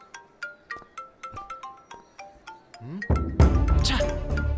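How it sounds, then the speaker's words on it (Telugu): A mobile phone rings with a repeating melodic tone, about a dozen evenly spaced notes, then a loud burst of movement and noise takes over, likely from a romantic scene in a Telugu film. "అమ్మాయి ఫోన్ రింగ్ అవుతుంది"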